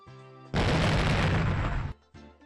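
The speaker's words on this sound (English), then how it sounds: "Explosion of pure white lime burst out of the window." In the Higurashi video game, a burst of white lime erupts from a window as a loud, sudden whooshing blast over quiet game music, lasting over a second before cutting off.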